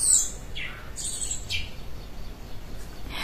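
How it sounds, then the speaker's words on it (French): Several short, high chirps from birds at a moderate distance, arriving in scattered bursts over a quiet background. "je m'excuse pour le bruit des oiseaux"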